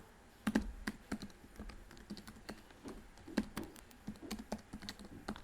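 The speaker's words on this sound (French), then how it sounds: "Oh, mais pourquoi il marche pas mon clavier?" Irregular clicking keystrokes on a computer keyboard while Arduino code is typed, close and moderately loud with uneven bursts and short pauses, no talking.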